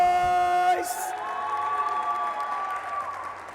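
Crowd at a TEKKEN 7 Nations Cup esports match cheering and shouting for the United Kingdom team, a swell of whoops and clapping that rises just after a tonal electronic chord cuts off.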